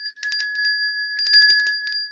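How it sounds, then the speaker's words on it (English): An electronic bell chimes in steady repeated bursts, loud and close, two clusters of rapid ringing separated by a short gap. "Ring the bell"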